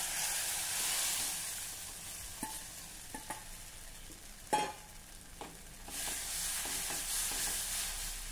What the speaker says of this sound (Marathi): आता आपल्याला हे एकसारखं ढवळत राहायचं आहे, म्हणजे उकळ छान घट्ट होईल।